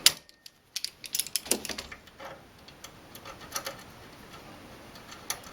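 Vise grips clamp a LockNLube grease gun seal kit as it is unscrewed, giving a few sharp metallic clicks and ticks up front, then scattered light tapping and scraping, close and fairly quiet.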